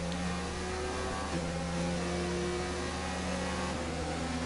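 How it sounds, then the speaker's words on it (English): A Formula racing car in a video game at the Australia circuit during free practice holds a continuous high engine whine, with pitch climbing and dropping sharply at gear changes, steady and unbroken throughout. "He's going around the final quarter, gets a bit of a slipstream from Thomas."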